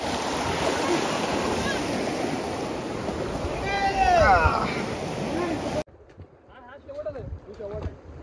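Water rushes and sloshes steadily as someone wades through a knee-deep stream on a hill trek, then quiets to softer splashing, with voices talking nearby.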